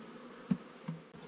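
Honey bees buzz around a hive, a quiet, steady hum with two brief louder passes of a bee flying close by the microphone.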